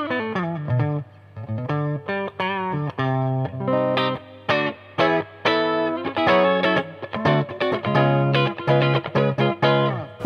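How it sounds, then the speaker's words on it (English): A Sterling by Music Man S.U.B. Axis electric guitar through the clean channel of a Peavey 6505 amp, gain down, plays a melodic run of picked notes and chords with reverb, lightly driven, alone and fairly close. "this is the clean sound of the Sterling Musicman Axis through the clean channel of this PV"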